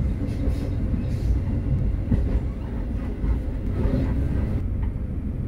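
Malioboro Express trains meet and pass each other at Purwasri station on the Jogja–Malang line, a steady, loud rumble of rolling stock with faint rail clatter running the whole time.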